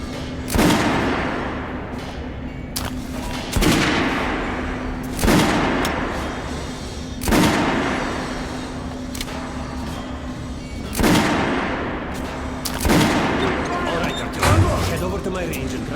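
Gunfire cracks out at a shooting range in the video game Metro Last Light, roughly seven sharp loud shots spaced a second or two apart, each followed by a short decaying echo.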